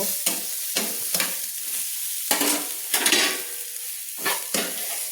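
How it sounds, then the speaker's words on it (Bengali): Brinjal pieces frying in oil in a pan, giving a steady loud sizzle broken by repeated scraping stirs of a spoon, with no talking. "বন্ধুরা দেখুন আমার বেগুনগুলো কি সুন্দর লাল লাল করে ভাজা হয়ে গেছে।"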